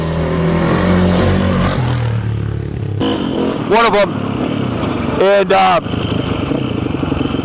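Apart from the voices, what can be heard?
KTM 520SX dirt bike engine revving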